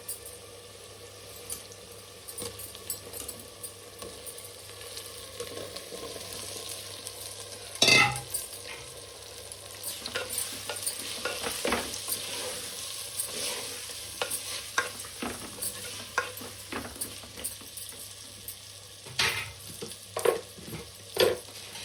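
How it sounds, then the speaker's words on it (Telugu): Potatoes frying in a pan of eggplant curry with turmeric and chili powder, a steady close sizzle under repeated scraping and stirring strokes of a spoon, with occasional louder clanks and no talk. "ఇప్పుడు ఆలుగడ్డ వేసుకోవాలి"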